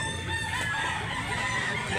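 Rooster crowing at a poultry sale in Barili, Cebu, a steady sustained call held across the whole short stretch amid busy background noise, with no talk.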